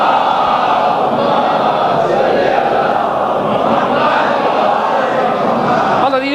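A congregation at a Muharram majlis chants salawat together in unison, a dense, steady roar of many voices filling the hall without pause.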